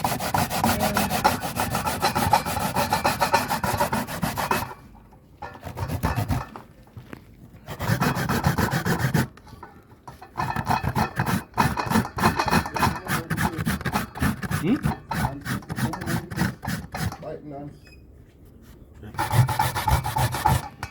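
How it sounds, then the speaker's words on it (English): Sweet potato rubbed against a hand grater for a Jamaican pudding: rough, rhythmic rasping strokes in quick bursts, broken by a few short pauses, close and fairly loud with no talking. "there's so much memory in using this grater"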